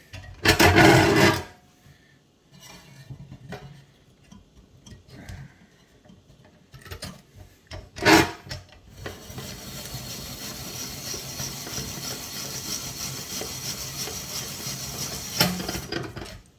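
A small hand-cranked spiral potato cutter slices a whole potato threaded on a wooden skewer, giving a loud rasping crunch at the start, a sharp burst near eight seconds, then a steady scraping grind that runs on to the end with no talking.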